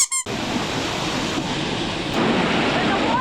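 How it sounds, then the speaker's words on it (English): Bridal Veil Falls at Niagara Falls roars as a dense, steady rush of falling water at close range, loud and continuous after a brief clatter at the start. "This is the base of Bridal Veil Falls."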